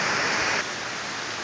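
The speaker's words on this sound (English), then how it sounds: "It's midnight and it's just raining heavily, as you can see." Heavy rain falling at midnight, a steady loud hiss of downpour that eases slightly partway through.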